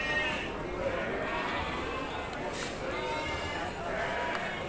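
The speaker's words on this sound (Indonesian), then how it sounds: "banyak sekali domba-domba yang" Large sheep bleat amid a busy livestock market in Padalarang, with a crowd of voices chattering throughout and animal calls rising through the steady din.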